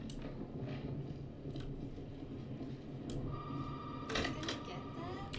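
A telephone rings inside the Resident Evil 7 horror game, a steady repeating electronic ring under dim ambient game noise, with a few sharper clicks and faint background sounds.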